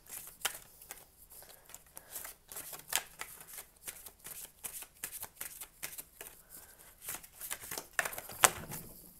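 Oracle cards being shuffled nearby, a steady run of crisp riffling and slapping that goes on for several seconds with no voice over it.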